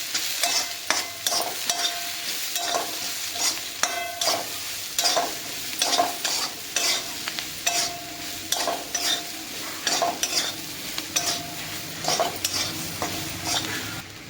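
Spoon stirring corn kernels with amchur powder and chaat masala in a pan, a steady run of scraping strokes every second or so over a soft dry sizzle, close and moderately loud, no voices.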